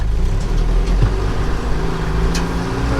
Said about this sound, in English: I've got to double clutch this thing because the second gear synchro is a tiny bit worn.